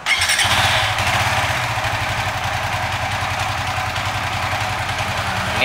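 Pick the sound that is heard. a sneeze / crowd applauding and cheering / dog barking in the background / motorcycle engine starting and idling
motorcycle engine starting and idling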